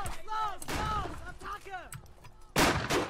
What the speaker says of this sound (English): I shot him with my gun.